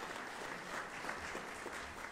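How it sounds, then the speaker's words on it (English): A church congregation applauds during a Sunday worship service, a brief, fairly quiet and steady patter of many hands clapping, with no pause or swell. "that's worth a round of applause"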